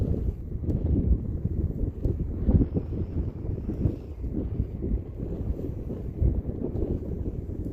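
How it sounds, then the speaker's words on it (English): Wind gusts across a kayak out on the water in Indiana, a steady low rumbling roar of buffeting against the microphone that continues without a break, with no voices heard. "Well, the wind has changed directions. Now it's wanting to blow me the other way."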